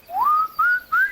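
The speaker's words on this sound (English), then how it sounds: "and began whistling." A footman in a storybook reading whistles three rising tones, each a clear sliding note that climbs and holds briefly, with short gaps between, close and alone with no talk.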